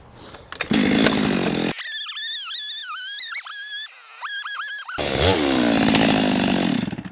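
A Stihl 462CM chainsaw cuts through oak firewood, loud and close, its rough snarl giving way mid-clip to a high, wavering whine before the heavy cutting roar returns.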